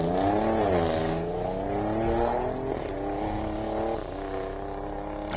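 A race car launches hard at a hillclimb, engine roaring and climbing through revs with gear changes, loud and close at first then holding a strong drone as it pulls away.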